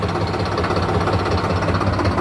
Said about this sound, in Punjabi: ਦੇਖੋ ਹੁਣ ਜਿਹੜਾ ਟਰੈਕਟਰ ਬਾਜ ਕਰਦਾ ਥੋੜੀ ਥੋੜੀ ਟਕ ਟਕ